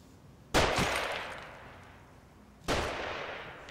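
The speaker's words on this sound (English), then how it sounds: "They're shooting." Two loud, sharp gunshots in The Evil Within, about two seconds apart, each followed by a long reverberant decay against a quiet backdrop.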